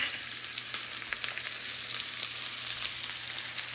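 Red and white onions frying in a pan for noodles, a loud, steady close-up sizzle with faint crackles and light stirring, no voices.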